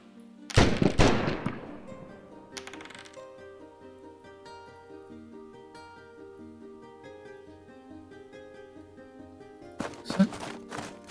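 A burst of gunfire from Empire of Men units in a fantasy strategy video game, with sharp shots at the start and again near the end and a sustained tonal game music bed between.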